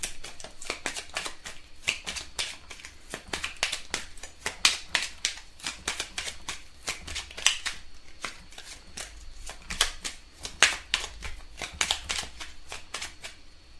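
A deck of tarot cards being shuffled and cut by hand, a steady run of crisp, close card slaps and riffles that repeats evenly for the whole stretch, loud and dry, with no voice over it.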